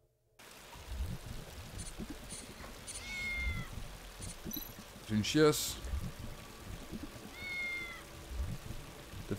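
A cat in a video game meows twice, with thin, wavering cries several seconds apart over a constant rain-like hiss, while someone talks in French throughout.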